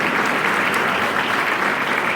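Steady, dense applause from a high school senior reception audience honoring a student, loud and continuous throughout with no pauses.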